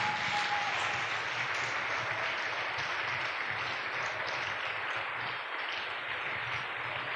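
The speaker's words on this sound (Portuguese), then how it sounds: "dê um aplauso forte ao Espírito Santo" Church congregation at a worship service applauds steadily, a dense wash of clapping heard from some distance, fairly quiet and even throughout.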